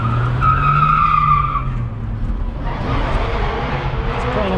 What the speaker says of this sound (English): Alright, little burnout.